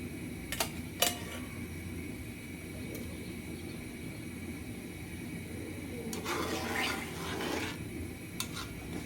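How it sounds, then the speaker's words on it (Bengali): Water is poured into a pan of Bengali tomato egg curry, making a soft, hissing splash that lasts a second or two. A few light metallic clinks come earlier against a quiet kitchen background. "এখন পানি দিব"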